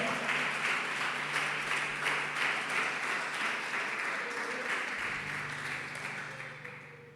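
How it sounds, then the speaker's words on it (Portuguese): A church congregation applauding after a sermon, steady dense clapping filling the room for about seven seconds, moderately loud and gradually easing off, with a low hum underneath. "Bora aplaudir."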